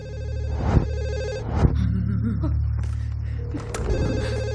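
A telephone rings in a tense film scene, a repeated electronic ringing tone in short bursts with brief gaps, fairly loud and close, with faint background sounds between rings.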